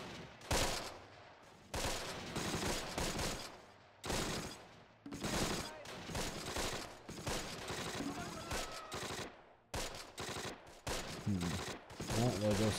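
MG42 machine gun fire from a German team in the Close Combat wargame at Nijmegen, with loud repeated bursts and broken volleys of gunfire filling the scene, stopping and starting at short gaps.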